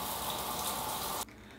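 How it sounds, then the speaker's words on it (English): Water is sprayed or poured onto hair during a wash-and-go curl styling session, a steady loud hiss of liquid that stops abruptly near the end, with no talking. "Gonna add some water."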